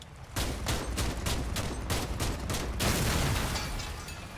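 Autocannon fire in the Crossout vehicle combat game comes as a rapid string of loud, evenly spaced heavy shots, about a dozen in quick succession, then fades into a ringing rumble.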